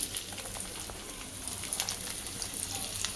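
Onion hits a small amount of hot oil for homemade Maggi and frying begins, a soft, steady crackling sizzle, fairly quiet and continuous.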